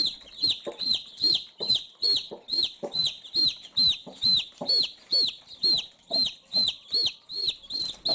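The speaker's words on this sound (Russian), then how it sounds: "Ходят куры по двору, мы для них несем крупу." A hen clucks in a steady rapid series of short, sharp, evenly spaced calls, close and clear against a quiet background.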